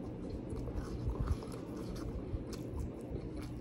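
Close, faint chewing of crunchy-crusted, buttery Little Caesars pizza during a mukbang, soft crunches and wet mouth sounds repeating steadily.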